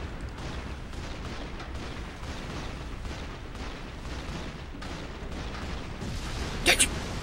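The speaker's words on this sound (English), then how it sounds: "Ah, machine gun." Machine gun fire rattles in rapid, continuous bursts with booming impacts in Call of Duty 2: The Big Red One. A voice talks over the din, and a sharp crack stands out near the end.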